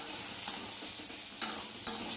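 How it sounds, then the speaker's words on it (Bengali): Sliced bitter gourd frying in oil in a home kitchen pan, a steady close hiss of sizzling with three brief louder crackles as the pieces are stirred or shifted. "উচ্ছে ভাজা বসিয়েছি"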